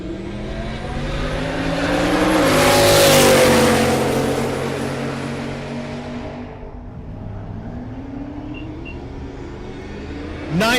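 A Chevelle drag race car accelerates hard down the track. Its engine note climbs and swells to a loud peak, then recedes into the distance, leaving a low ambient rumble.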